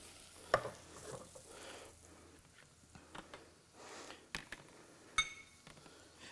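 Green curry ingredients being sautéed in a pan at a cooking demonstration, a quiet sizzle broken by sharp clinks and scrapes of a utensil against the pan, irregular and close.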